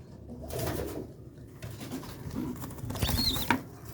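Adult pigeons and their chicks coo close by in soft, repeated bursts, with a brief flutter of wings and light pattering near the end.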